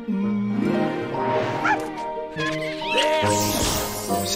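A cartoon dog yips and barks in short bursts over a busy musical background, with some whimpering tones mixed in.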